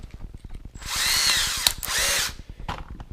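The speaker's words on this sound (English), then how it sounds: "We'll throw it in the drill" A power drill spinning a screwdriver whirs up in two sustained bursts with a brief pause between, preceded and followed by quick clicking ratchet-like ticks.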